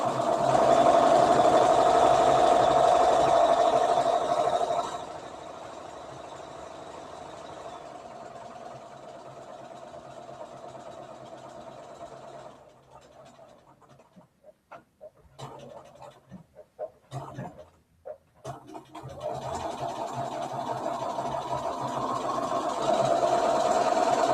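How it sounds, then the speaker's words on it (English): A sewing machine stitches an Early American folk doll, with steady loud machine running in bursts at the start and end, and quieter, broken stretches in between. "she prefers us to do this machine stitching"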